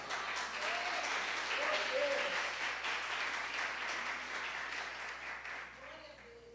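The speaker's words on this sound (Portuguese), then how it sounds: "dê um forte aplauso a ele" Loud applause fills a Brazilian church during a deliverance service, sustained clapping from the congregation with scattered voices calling out beneath it, fading slightly toward the end.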